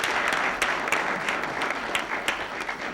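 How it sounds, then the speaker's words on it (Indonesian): Audience applause for the jury panel at an Indonesian television show, a steady wash of many hands clapping throughout with a few sharper claps standing out, dense and moderately loud, no voices over it. "Kita berikan tepuk tangan dulu"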